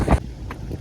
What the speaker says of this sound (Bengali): বাতাস, পদ্মা নদীর বাতাস।